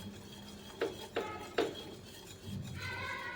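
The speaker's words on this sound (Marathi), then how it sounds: "गरम केलेल्या दुधात घालायचं आहे आणि हे छान असं ढवळून घ्यायचं." A spoon stirring custard mixture into hot milk in a cooking pot, a few distinct clinks against the metal followed by a softer swirling scrape, close up with no talk.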